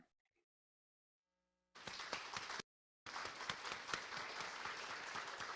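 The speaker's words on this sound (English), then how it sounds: "I don't know if you can hear the clapping in the room" An in-person audience at a symposium on tackling loneliness claps in the room after a presentation, a dense burst of applause that starts abruptly after near silence, cuts out briefly, then resumes steadily.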